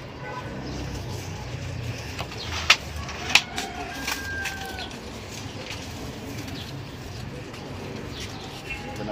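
Pigeons at a pigeon seller's loft make soft, low cooing throughout, with a few sharp clicks or taps and someone talking quietly nearby.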